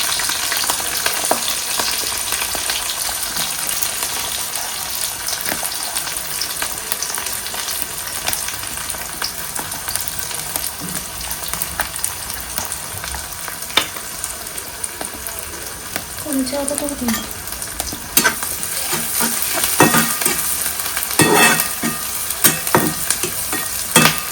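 About ten or twelve chilies and onion fry in a pan with a steady, close sizzle, punctuated by scraping and clinking as a utensil stirs them, with faint voices occasionally underneath.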